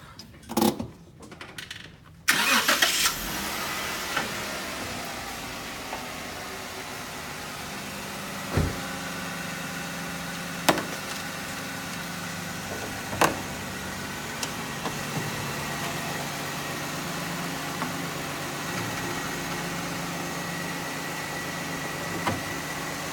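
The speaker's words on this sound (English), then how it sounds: "I'm going to start the engine up and we're going to give you a look under the hood." A 2014 Jeep Wrangler engine cranks and catches, then settles into a steady idle with occasional small clicks and knocks, heard up close.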